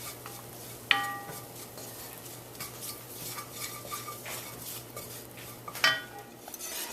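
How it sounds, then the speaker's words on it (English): Stirring flour into a roux in a pot for Caribbean coconut shrimp bisque, with quiet scraping and two sharp metallic clinks of a utensil against the pot over low background noise. "Just add that flour in there, and you really want to stir the flour around in here"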